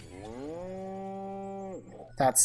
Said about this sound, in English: He said moo.